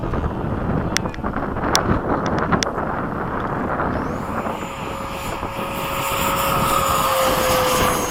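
A Freewing 90mm F-15 RC jet with a custom Leopard electric ducted-fan motor takes off. Its rising whine builds and holds under gusty wind noise on the microphone, with a few sharp clicks early on.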